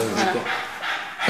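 Dog on an island farm pants in quick, breathy rhythmic bursts close to the microphone, heard under someone speaking briefly.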